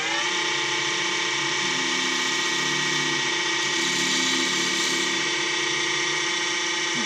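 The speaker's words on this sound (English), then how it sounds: "I need to cut a little dimple into the thing, just so that my drill bit's got somewhere to go into" A power tool whirs steadily with a high, constant whine, cutting a dimple into wood up close for several seconds.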